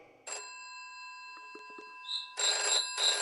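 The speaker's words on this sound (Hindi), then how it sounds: "अचानक टेलीफोन बज उठा।" A home telephone rings late at night with bright, bell-like bursts: one short ring, a quieter pause with faint clicks, then two loud rings close together.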